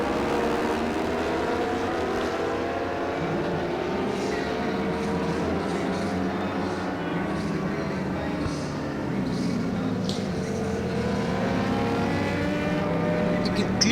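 Racing motorcycles run on a circuit during a JK Tyre race, their engines a steady droning roar that rises and falls as bikes pass, with commentary talk over the top.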